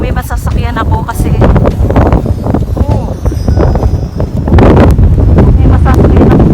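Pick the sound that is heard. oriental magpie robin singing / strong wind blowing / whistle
strong wind blowing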